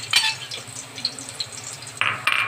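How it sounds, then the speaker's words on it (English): Garlic hits hot oil for lechon paksiw, bursting into a bright crackling sizzle, then easing off and flaring again near the end amid light utensil clinks, no talking. "mainit siya, lagay na natin yung ating garlic"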